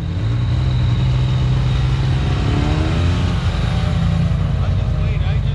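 A side-by-side UTV off-road machine stuck and buried on a trail, its engine droning and revving loudly and steadily without a break, close by, with voices talking over it.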